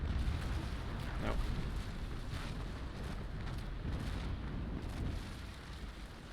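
Cannon fire striking a pirate frigate in the naval battle game Naval Action, a dense rolling barrage of booms and crashing impacts, loud and sustained with several sharp hits over the rumble.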